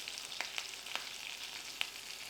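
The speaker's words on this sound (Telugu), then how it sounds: "తాలింపు మంచిగా ఎంత మంచి స్మెల్ వస్తుందో దాన్ని మంచిగా వేగనీయండి" Garlic, curry leaves, dry red chillies and asafoetida temper in hot oil for a Telangana-style dal pulusu, giving a faint, steady sizzle broken by a few crisp pops.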